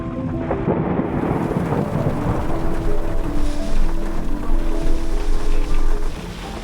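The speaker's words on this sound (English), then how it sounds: "We were a little bit worried coming on this trip because of this rain" Heavy rain pours steadily with loud rumbling thunder rolling through at a camp in Chobe National Park, Botswana, a dense roar with no voices.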